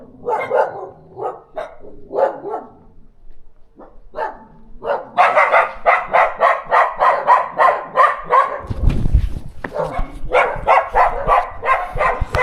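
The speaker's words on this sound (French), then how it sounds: "Et oui, les chiens, ça recommence." Several dogs in Peru barking, first sporadic sharp barks, then a rapid continuous run of loud barks from close by, with a brief low rumble partway through and the barking carrying on after it.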